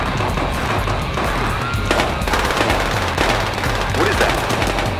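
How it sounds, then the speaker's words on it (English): Rapid automatic gunfire from a shooter in the Battlefield Hardline video game, dense continuous bursts of shots crackling loudly through the whole stretch. "tell that to the asshole shooting up the place"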